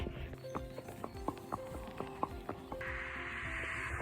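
A pony named Mangetsu walks with hooves clip-clopping in a steady, even rhythm, close by and moderately loud over a faint background hum.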